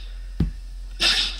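A single sneeze: a short sharp intake followed about half a second later by a loud hissing burst of breath, close and alone.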